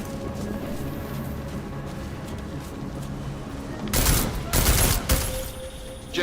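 Gunfire in the game Deus Ex: Mankind Divided, a sudden loud burst of rapid shots that cuts through a low ambient background and then stops.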